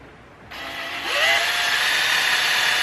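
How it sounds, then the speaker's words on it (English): A power drill whirs up close, starting abruptly and ramping up to a steady high-pitched whine that holds until it cuts off. "So I'm going to go ahead and just put a drill bit in here"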